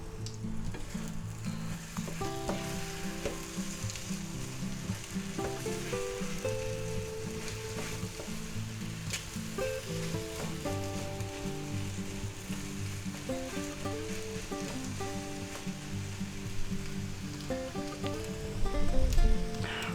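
A ham and egg mixture fries in a pan with a steady, close sizzle, while a utensil stirs and scrapes it in repeated light strokes, with occasional louder clatter near the end.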